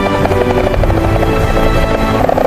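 A helicopter flies nearby, its rotor thumping and engine droning loudly and continuously without any talk.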